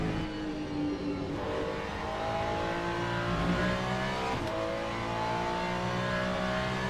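A Ferrari LMGT3 race car in the Le Mans Ultimate racing game, driven at Imola, roars with a sustained, loud engine note whose pitch climbs and drops through quick gear shifts.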